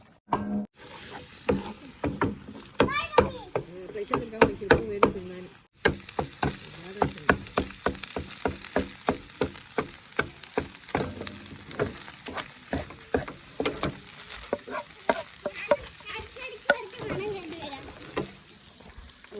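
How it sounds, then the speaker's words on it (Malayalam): Egg for fried rice being stirred and scraped in a pan, with a run of sharp, rhythmic clacks and scrapes over a light sizzle. "എഗ്ഗ് ഒന്ന് ഒഴിച്ചിട്ട് മിക്സ് ആക്കണം"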